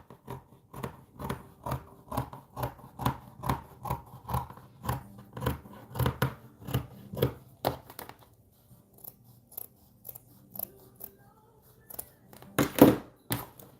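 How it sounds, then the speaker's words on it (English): Scissors snip through satin fabric along a marked line in a steady rhythm of crisp cuts, close and fairly quiet, slowing into a few scattered snips toward the end. "then you'll get your scissors"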